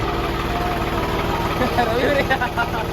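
A tractor engine idles steadily with a low, throbbing rumble that holds for the whole stretch, close by and fairly loud.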